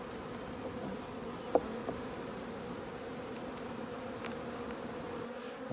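A healthy honey bee colony drones in a steady, close buzz inside a flat roof hive, a dense continuous hum with a single brief knock partway through and no voices.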